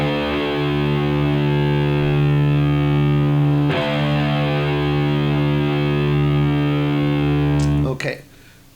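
Distorted electric guitar with the low string dropped to D, a single sustained low note ringing loud and steady, restruck once midway, then cut off with a scrape of fingers on the strings.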